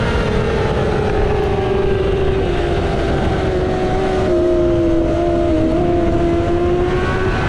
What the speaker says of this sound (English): I could hear his bike for, the past minute.